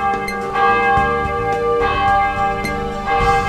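Christmas church bells ringing in a church in the video game Sakura Wars 2, a loud sustained peal of repeated strikes with long ringing tones layered over one another, heard alone without any talk.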